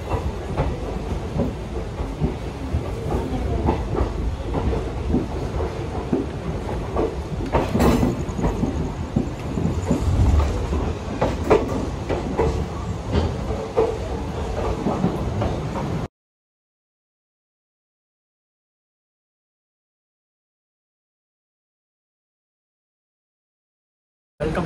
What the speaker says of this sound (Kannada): ಟ್ರೈನ್ ತುಂಬ ಸ್ಲೋ ಹೋಗ್ತದೆ.